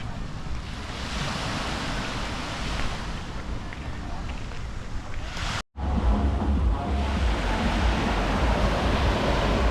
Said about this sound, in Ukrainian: І ось так виглядає пляж.